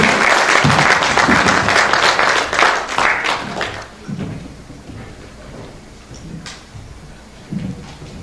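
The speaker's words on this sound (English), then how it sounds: "Round of applause." An audience claps loudly and densely at a celebration honoring Professor Puran Singh for about four seconds, then the applause thins out and fades, leaving scattered claps and murmuring.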